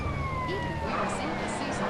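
A wailing ambulance siren in GTA San Andreas, sweeping steadily in pitch over a dense rumble of traffic and game noise, with a voice talking faintly underneath.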